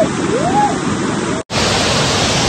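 Water thunders down the waterfall at Sonalpada dam near Karjat, a loud, steady roaring rush close by, briefly cut off mid-clip, with a short rising whistle-like tone early on.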